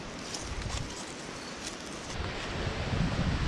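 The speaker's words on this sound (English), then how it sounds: "It's super windy today, so I apologize for that" Strong wind buffets an outdoor microphone on a gusty day during deer-head and firewood chores, a loud rumbling roar with rustling that builds toward the end.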